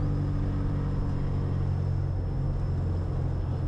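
Challenger 350 business jet accelerating down the runway for takeoff at Jackson Hole, a steady loud rumbling engine roar with a faint high whine, continuous and close, heard from inside with no talk.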